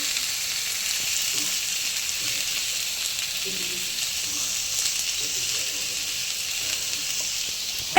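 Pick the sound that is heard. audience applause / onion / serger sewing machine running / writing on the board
onion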